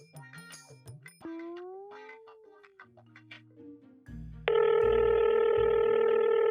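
A phone call rings out with a loud, steady, repeating ringback tone close by. It follows a stretch of soft tonal beeps and chimes.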